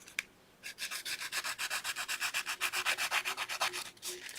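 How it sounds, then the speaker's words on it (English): Hand sanding of a hammered wire-wrapped metal pendant with a tiger eye stone: a quick, even series of about twenty rasping back-and-forth strokes, close and crisp, after a brief start, with no voices. "You're just sanding a little bit."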